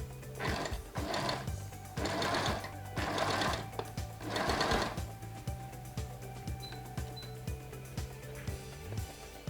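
A sewing machine edge stitching the fabric of men's native trousers, running in several close bursts of rapid mechanical stitching separated by short pauses, then quieter clicks and handling as the cloth is adjusted.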